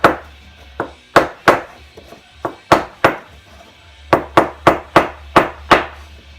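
Sharp, sturdy taps struck one at a time on the edges of a homemade soil blocker, at an uneven pace, loud and close, each with a brief ringing decay; no voices.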